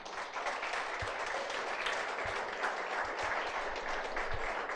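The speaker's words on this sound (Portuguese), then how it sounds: "Você pode aplaudir a Jesus?" A church congregation applauds in a sustained, even wash of many hands clapping, moderately distant and continuous from start to finish.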